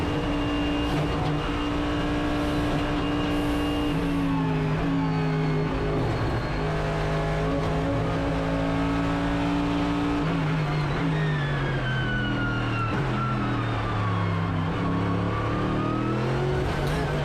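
A racing car engine in a driving game revs and shifts continuously, pitch climbing and dropping through gear changes and cornering, steady and fairly loud with no talk.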